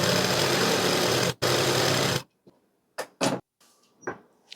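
A domestic sewing machine stitches the fourth panel of a six-panel inskirt in a steady loud run of about two seconds, then stops, followed by a few short bursts of stitching and handling noises.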